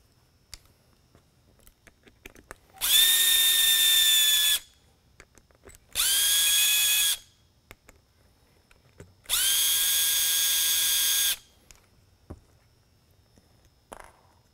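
Power screwdriver backing screws out of a Whelen 500 V-Series 3-in-1 Super-LED lighthead, three separate whining bursts of a few seconds each with quiet handling clicks between them, close and clear.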